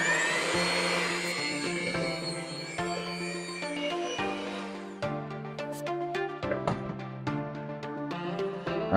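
An electric hand mixer whirs steadily while blending butter into a gluten-free monster cookie mix, a close, continuous motor drone with shifting pitch and light rattling as the beaters work through the dough.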